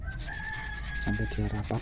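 Steady rhythmic rubbing of sandpaper on a glued, repaired idle speed control servo from a Kia Visto, strokes repeating at an even pace, with a faint tone and a brief spoken phrase over it.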